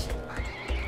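Beefalo creature in the survival game Don't Starve Together, a brief snorting, whinny-like animal call lasting under a second, close and clear with no talk.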